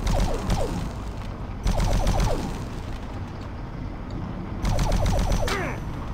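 Bursts of rapid automatic gunfire in the video game DOOM 3 come in three loud rattling volleys separated by quieter stretches of game ambience, with no speech.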